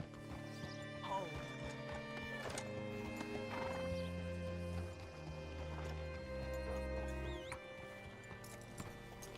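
In the Red Dead Redemption 2 video game, a horse whinnies and its hooves clip-clop close by, layered over sustained tonal game music throughout.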